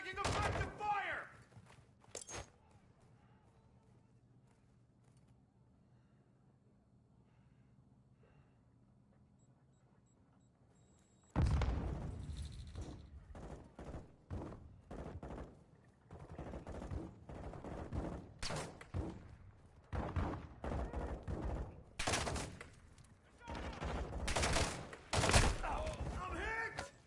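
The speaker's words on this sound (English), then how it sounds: "Taking effective fire!" Gunfire in the Call of Duty DMZ video game: a quiet stretch gives way to loud, rapid bursts of shots and fusillades from about eleven seconds on, with voices calling out between the volleys.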